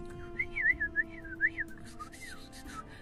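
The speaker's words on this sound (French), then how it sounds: "Il y a des oiseaux qui sont en train de siffler" A clear melodic whistle rising and falling in short repeated phrases, followed by scratchy rustling, moderately quiet.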